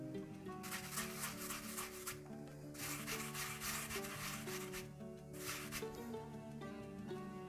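Depilatory gum is rubbed hard in circles on skin, making quiet, rhythmic rasping strokes in repeated bursts with brief pauses between them.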